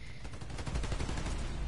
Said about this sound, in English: Why is that guy shooting?